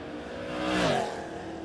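Drag race between a Woodside wagon and a Napa delivery truck, with a steady engine roar that swells and falls as the cars pass, heard from a short distance.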